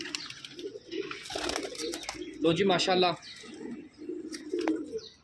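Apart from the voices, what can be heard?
pigeons cooing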